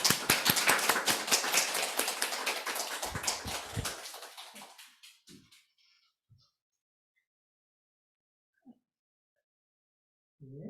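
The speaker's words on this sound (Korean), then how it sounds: "예, 박수로 맞이하겠습니다." Church congregation at a Thanksgiving Sunday service breaks into loud, dense applause that swells briefly, then thins out and fades over several seconds into near silence, with a few faint stray sounds afterward.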